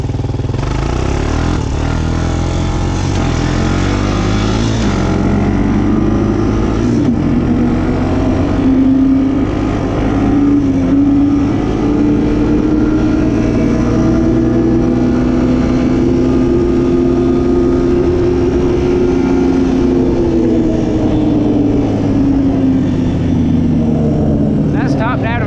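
A Honda Recon ATV engine revving and pulling hard while riding through a muddy ditch, a loud, continuous droning roar whose pitch climbs and holds through the gears, recorded close up.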